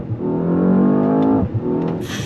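A 2025 Mercedes-AMG S 63 sedan under throttle, heard from outside as a loud, rising engine note that builds for about a second and a half, then eases off before a brief hiss.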